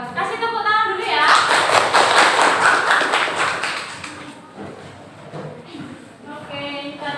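A classroom group of students claps briefly, swelling to a dense burst and then thinning out, with voices talking faintly over the fading claps.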